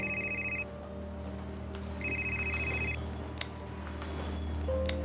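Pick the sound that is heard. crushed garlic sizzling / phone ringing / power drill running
phone ringing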